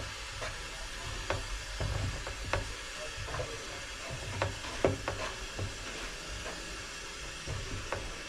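Thick maize meal nshima stirred in a pot, soft irregular scraping and thudding strokes over a low bubbling simmer, faint and close with no speech.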